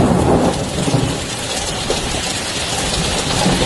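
A violent thunderstorm in Dubai with hail, strong winds and heavy rain produces a dense, loud, constant roar of downpour and wind, without pause for several seconds.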